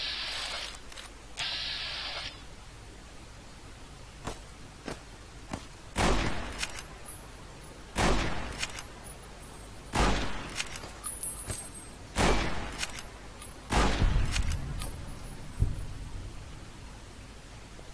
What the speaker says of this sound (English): Someone is shooting at me.